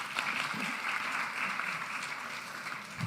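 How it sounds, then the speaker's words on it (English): Steady applause from a conference audience in Rome, a continuous patter of many hands clapping at moderate volume throughout. "would you give them a round of applause up there?"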